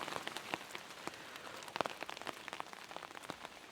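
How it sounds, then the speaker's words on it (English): Steady rain patters on a surface, with dense, irregular drops that stay even throughout and no voices. "it's really raining."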